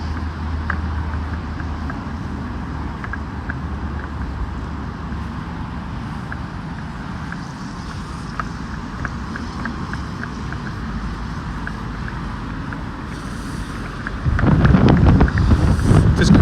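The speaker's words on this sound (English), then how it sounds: "It's very loud and windy around here" Steady outdoor rumble of wind buffeting the microphone with passing road traffic on a street in central Moscow, growing louder and gustier near the end.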